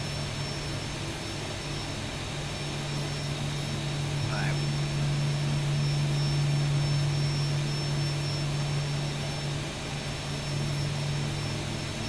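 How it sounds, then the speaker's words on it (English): Boeing 737-800 jet engines drone steadily during taxi in the X-Plane 12 flight simulator, a constant whine with a low hum rising slightly midway, and a brief faint sound over it. "It's so much easier to taxi this aircraft now."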